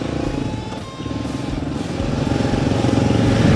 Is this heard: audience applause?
no